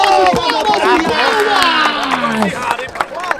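Crowd at a rap battle claps and cheers loudly in a steady wash of applause, with voices shouting over it throughout.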